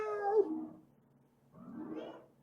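A cat named Luna meows twice, close and loud, a drawn-out wavering cry followed by a shorter second call after a pause.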